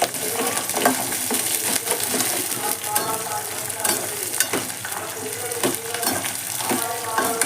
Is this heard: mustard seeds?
yes